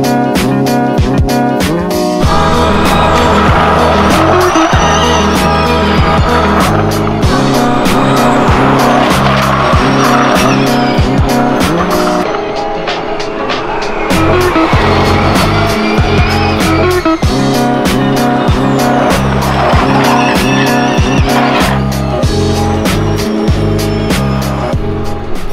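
Formula E electric race cars whistling past during qualifying at the Paris E-Prix, a steady loud roar of passing cars with sharp tyre squeals and fast whooshes, continuous through the stretch with no talk.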